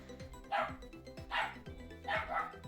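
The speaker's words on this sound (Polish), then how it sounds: "U mnie w drugim pokoju trwają zabawy moich piesków." Several dogs bark and yip in bursts while playing in another room, three clear barking outbursts at steady intervals, somewhat distant and muffled, with no talking over them.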